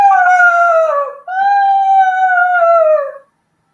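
A human voice imitates a whale song with two long, close, wavering hoots. The first slides gently downward, then after a brief break a second, longer call holds steady before dropping away into silence.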